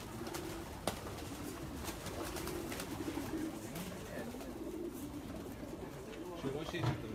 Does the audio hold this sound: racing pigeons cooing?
yes